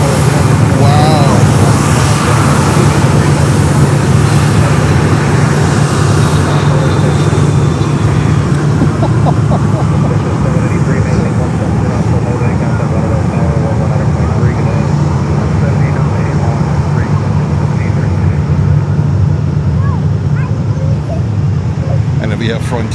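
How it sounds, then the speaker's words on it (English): A Frontier Airlines airliner moves at Fort Lauderdale airport, its engines making a steady, fairly loud drone with a low hum beneath, while a person talks over it the whole time. "And then we have Frontier coming over here with their beautiful liveries."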